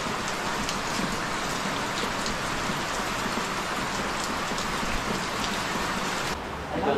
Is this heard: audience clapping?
no